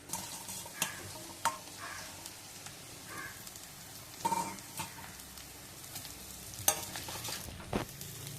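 Small broccoli florets sauté in hot oil for a pepper fry, making a close sizzling crackle with a few louder scraping bursts as they are tossed. No talking.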